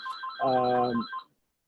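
A telephone rings indoors with a warbling electronic tone, one burst of about a second, fairly clear but moderate in level and with no talk over it.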